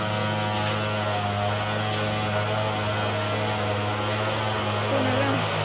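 A gear driven self powered generator running steadily, a continuous machine hum with strong low tonal bands and a high whine, loud and close, with no break over the stretch.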